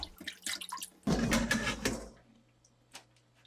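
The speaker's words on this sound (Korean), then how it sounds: "호두를 흐르는 물에 씻어준 다음에 물을 받아서 한 번 더 헹궈주세요" Walnuts are rinsed under a running kitchen tap: a burst of gushing water for about a second between scattered drips and clinks, then quiet.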